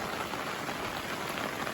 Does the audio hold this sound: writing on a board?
no